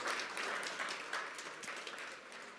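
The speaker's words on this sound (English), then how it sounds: "A big round of applause for being able to just do this again." Audience applause at an awards evening, a soft continuous patter of many hands clapping throughout, moderately distant and fairly even.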